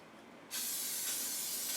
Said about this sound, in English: I'm going to give it a little spray here